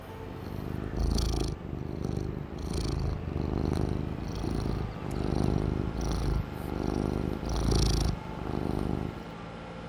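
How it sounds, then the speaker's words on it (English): A cat in the video game Farming Simulator 22 purrs close and steady, with a continuous rumbling rhythm that swells on each breath, heard alone without talk. "Yeah, I hear the purrs."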